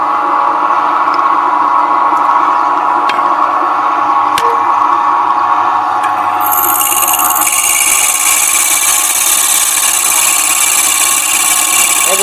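A TCT armour-piercing drill bit bores through a hardened steel tap lubricated with tap magic, giving a steady, loud power-drill whine that grows harsher and brighter partway through and continues throughout.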